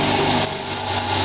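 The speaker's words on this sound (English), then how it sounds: "I'm going to drill a hole all the way through everything." A steady high-pitched whine of a power drill running continuously as it drills through metal, close and fairly loud, with no talking.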